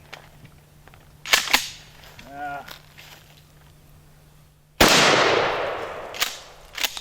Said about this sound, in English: Let's shoot the metal.